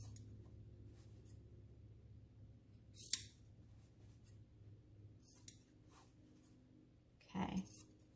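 Scissors clipping the fabric corners of a child-sized 3D box mask, a few sharp, close snips spaced several seconds apart over a quiet room hum, with one longer rustle near the end.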